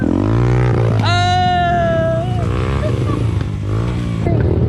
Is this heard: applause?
no